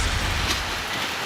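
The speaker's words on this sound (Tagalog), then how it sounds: "Kahit malakas ang ulan," Heavy rain from a typhoon falling outdoors over farmland, a steady broadband hiss that stays loud and even throughout without any voices.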